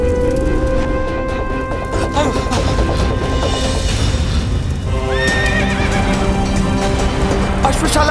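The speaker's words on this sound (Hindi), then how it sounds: "अश्वशाला में तो अग्नि लगा दी इसने। अश्व तो अनियंत्रित हो चुके हैं" A dramatized TV-series scene of horses fleeing a burning stable: loud repeated neighs and whinnies over rapid clip-clopping hooves and thudding impacts, mixed with shouting voices throughout.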